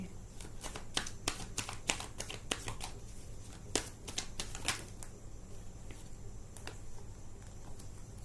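Tarot cards being shuffled give quick, crisp riffling bursts in an uneven rhythm, clustered early and then thinning out, close and fairly quiet against faint room noise.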